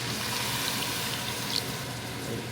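Tap water pours steadily into a pan of meat sauce on high heat, a continuous hissing splash with no talk over it.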